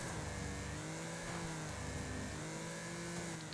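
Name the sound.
car engine revving under gentle throttle in video game Wreckfest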